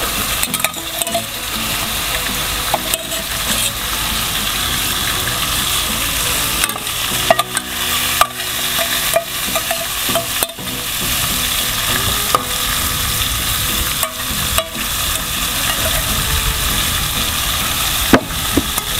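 Chicken opor being stirred in a pan, a steady close sizzle of frying with repeated scraping and clinking strokes of a utensil throughout, no voices.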